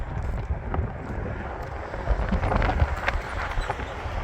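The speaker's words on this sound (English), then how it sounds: "Wind is really pushing." Strong spring wind gusts over a dry arroyo, buffeting the microphone with a loud, continuous rushing roar.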